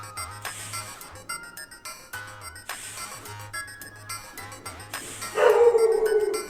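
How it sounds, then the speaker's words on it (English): A pet dog yips and howls at nearby fireworks, intermittent cries over a steady tonal background that build into a loud, drawn-out whine at the end, with no talking. "you'll hear my dog barking a little bit"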